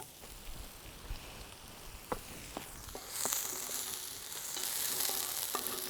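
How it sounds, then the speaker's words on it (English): Shallots frying in a hot pan give a faint, steady sizzle with a few soft clicks and taps, and the sizzle swells louder toward the end. "now start off with shallots"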